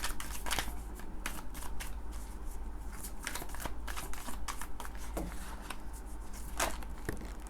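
Tarot cards shuffle and riffle up close in a steady run of crisp, papery flicks and snaps, with no talking.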